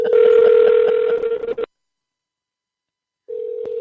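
A telephone call rings through as a steady electronic ring tone, one long ring followed by silence and then the start of the next ring, clear and close.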